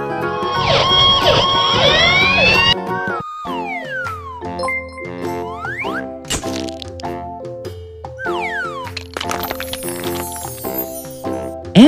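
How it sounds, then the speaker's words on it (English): A cartoon fire engine siren wails in toy-like rising and falling sweeps, mixed with chimes and electronic jingles, steady and loud. "Fire engine."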